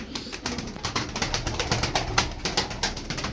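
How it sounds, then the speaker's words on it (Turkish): Pigeons coo in a bird market or loft, repeated soft throaty calls in quick rhythm with light wing flutters, close and continuous with no talk. "Çok güzel kuşlar var abiler."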